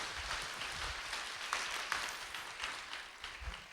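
An audience in a church revival prayer service claps quietly, a soft, continuous patter of hands with a few slightly louder claps, heard at a distance.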